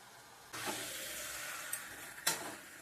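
Raw mango pieces fry in a pan for pickle, a soft sizzle starting abruptly then holding steady and faint, with a couple of brief scraping stirs near the end.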